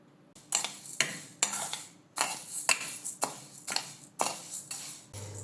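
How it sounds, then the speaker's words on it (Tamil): Raw rice and moong dal dry roast in a pan, with a spoon scraping and stirring the grains in rhythmic strokes about every half second, close and clear with no one speaking. "எடுத்து வச்சுருக்கிற பச்சரிசி பாசிப்பருப்பு ரெண்டையும் நல்லா மணக்கிற அளவு வறுத்தெடுத்துக்கலாம்"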